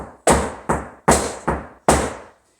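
Five sharp flamenco heel strikes with the right foot on a hard floor, grouped as a pair then a trio, each ringing briefly before the next, with no talking.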